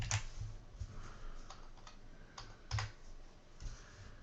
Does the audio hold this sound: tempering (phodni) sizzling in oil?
no